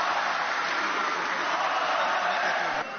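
Standing party members at a Kılıçdaroğlu political rally give sustained, dense applause, a continuous loud roar of many hands that cuts off sharply near the end.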